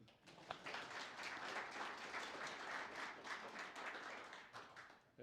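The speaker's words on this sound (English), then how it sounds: "Now you can applaud." An audience applauds at an astronomical society's monthly meeting, with steady, even clapping from a modest crowd throughout. It sounds somewhat distant and fairly quiet.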